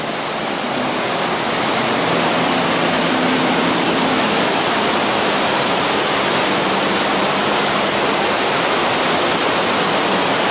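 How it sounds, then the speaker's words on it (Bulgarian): A boat passes beneath the thundering Iguazu waterfalls, buried in a dense, loud, unbroken roar of falling water that builds slightly at the start and then holds steady. "Ето следващата лодка, която се муква под водопадите."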